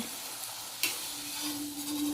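Luchi deep-frying in hot oil, a steady close sizzle with a brief clatter near the start and a faint tonal hum rising toward the end.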